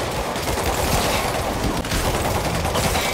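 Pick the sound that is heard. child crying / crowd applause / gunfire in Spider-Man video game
gunfire in Spider-Man video game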